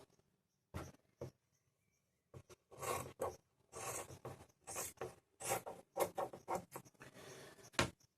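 Scissors cut a carbon fiber sheet in half with a run of close, dry snipping and rasping bursts after a short pause, the material crunching and fraying as the blades work through it.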